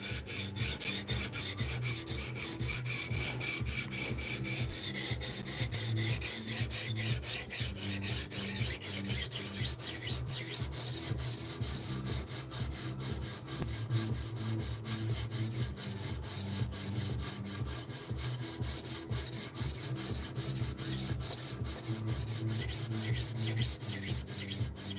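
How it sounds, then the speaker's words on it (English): Steel knife blade drawn repeatedly across a 150 grit stone on a TSPROF Kadet sharpener, a steady close rasping scrape in continuous rhythmic strokes with no talk. "Ever constantly turning the knife while I'm sharpening it"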